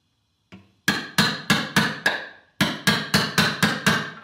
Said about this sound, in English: So he's going to tap on that valve to show you.